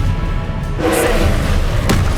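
A burst of the Incendio fire spell in Hogwarts Legacy rises from low rumbling game ambience into a whooshing, thudding flare, with a sharp bright crack near the end.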